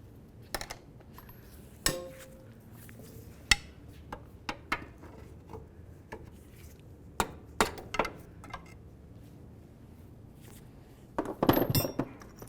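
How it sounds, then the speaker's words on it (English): A hammer and pry bar knock plastic sheathing off an inner tie rod on a 2000-2005 Buick LeSabre: scattered sharp metallic bonks at irregular intervals, ending in a quick, denser cluster of clanks. "We actually want to use a pry bar and a hammer, and we're going to give it a couple loving bonks just to drive it off of there."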